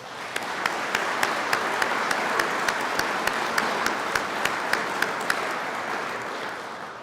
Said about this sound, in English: would you please offer them a round of applause for their work?